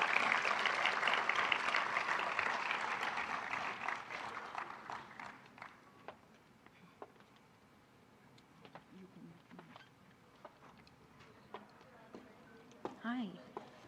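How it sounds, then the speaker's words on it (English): Audience at a finals event applauding a speaker as she is welcomed on stage, dense clapping that is loud at first and fades over several seconds into scattered claps, shuffling footsteps and murmured voices. "Please give a thunderous round of applause to Manisha as we invite her on the"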